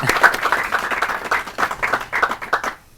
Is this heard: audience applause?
yes